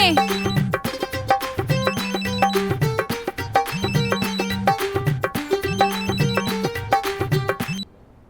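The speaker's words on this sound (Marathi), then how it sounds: "फोन आलाय तुमचा" A bright electronic phone ringtone plays a repeating melodic pattern loudly for several seconds, then cuts off abruptly.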